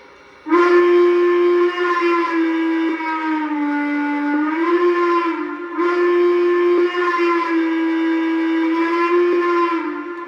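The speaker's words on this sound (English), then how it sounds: "It's a Chesapeake and Ohio hooter whistle." A deep, loud Chesapeake and Ohio hooter whistle from a Lionel Legacy Greenbrier model locomotive sounds in two long blasts, its low tone wavering slightly in pitch.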